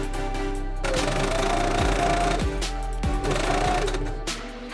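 A sewing machine stitches the shoulder seams of a button-up dress shirt, running as one loud, steady whir that holds for nearly the whole stretch with a few brief dips in pace.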